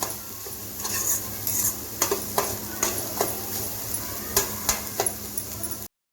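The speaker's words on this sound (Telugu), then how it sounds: "ఈ పచ్చిమిర్చి అలాగే ఉల్లిపాయలు గోల్డెన్ బ్రౌన్ వచ్చేంత వరకు వేయించుకుంటున్నాను" Onions and green chillies frying in a dry pan with no oil, a steady soft sizzle broken by repeated clinks and scrapes of a spoon stirring against the pan.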